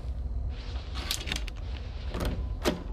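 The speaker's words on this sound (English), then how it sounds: "Ooh, it's a door." In the horror video game Outlast 2, a door is opened, producing a few quiet creaks and mechanical scraping bursts, spaced out over a low ambient background.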